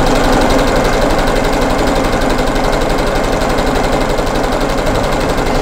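A sewing machine chain-stitches fabric squares for a rag quilt, its steady rapid mechanical whir running continuously and close up with no pauses or talk.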